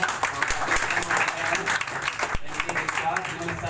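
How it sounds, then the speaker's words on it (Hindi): Clapping from an audience at a maths quiz prize distribution, steady dense applause throughout with a presenter's voice speaking over it. "ताली बजाइए।"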